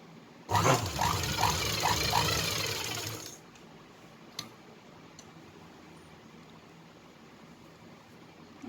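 A sewing machine stitches thread piping onto a blouse, running in one loud continuous burst of about three seconds with a rapid rhythmic clatter, then stopping and leaving near silence with a single faint click.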